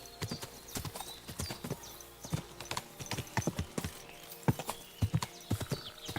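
A horse trots along a path in Kingdom Come Deliverance 2, hooves clip-clopping in a steady rhythmic beat for several seconds, close and distinct against faint ambient tones.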